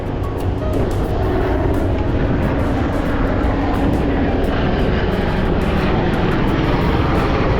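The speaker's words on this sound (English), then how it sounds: "And that, I believe, is the National Guard medical chopper." A loud, steady drone of a National Guard medical helicopter passing overhead at a beach, sustained throughout and layered over a rumbling surf background.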